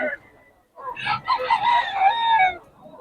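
A rooster crows once nearby, loud and drawn out, after a brief moment of faint background noise.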